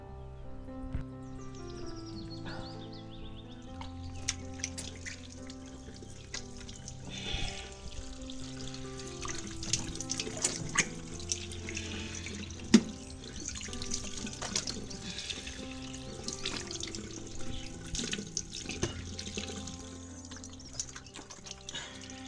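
Tap water runs into a sink while someone washes their face, a steady splashing stream broken by irregular drips and sharp splatters, close and fairly loud, with a faint tonal hum in the background.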